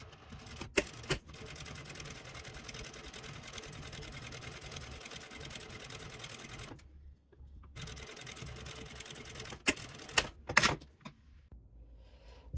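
Sewing machine top stitching vinyl on a zippered make-up bag, a steady close mechanical whir with a few short pauses and sharp clicks near the start and end.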